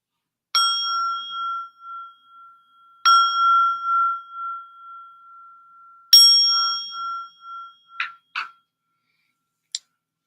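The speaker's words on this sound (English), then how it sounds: "listen to the chime of the gong bowl." A gong bowl is struck three times, each chime ringing out clear and sustained before slowly decaying, followed by a few faint, short ticks and taps in otherwise quiet surroundings.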